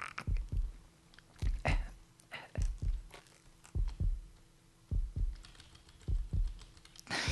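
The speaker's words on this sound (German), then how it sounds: "Oh Gott, der Herzschlag." Heartbeat in the stealth video game Splinter Cell: slow, regular thudding double beats, close and prominent over a faint steady hum.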